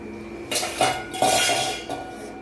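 A metal lid clanks onto a steel cooking pot of simmering dal for a dal batti meal, giving several sharp, close clattering knocks within a couple of seconds.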